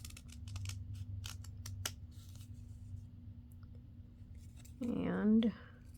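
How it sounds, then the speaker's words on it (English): Crisp scissor snips trim a small piece off a paper craft project in a rapid cluster of close, sharp cuts at first, followed by quiet, and then a voice speaks briefly near the end. "I'll just trim this little bottom piece off. Trim across here."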